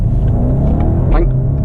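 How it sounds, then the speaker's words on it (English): A 2018 BMW 750i xDrive luxury sedan with a V8 and eight-speed gearbox revs hard, its engine droning and rising with an exhaust crack on the upshift, while someone talks over it. "We also get this exhaust explosion when you upshift gears"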